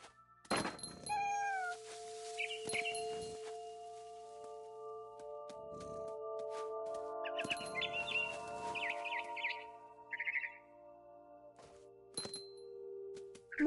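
Cat meowing inside a PS4 video game, several short meows mixed with bird chirps and tweets, soft thumps and a lingering musical drone, sparse and intermittent throughout.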